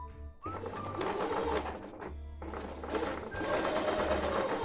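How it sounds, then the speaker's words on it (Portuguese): A sewing machine runs a straight seam with a backstitch on a cloth diaper, motor whirring in short bursts separated by brief pauses, close and fairly quiet. "Vou passar uma costurinha reta, dar um retrocesso."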